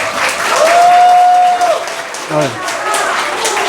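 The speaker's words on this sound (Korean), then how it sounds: "박수로 좀 환영합니다" An audience claps to welcome a member preparing to run for county head in Gijang, Busan, at a political lecture; the applause is moderately loud and steady, with a sustained tone over it and a voice briefly audible.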